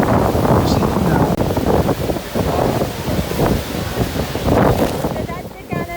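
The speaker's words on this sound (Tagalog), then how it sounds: "So that's the Canada side, guys. So windy!" Strong wind at Niagara Falls on the Canada side buffets the microphone in a loud, continuous rushing roar that surges and eases, with voices faintly mixed in.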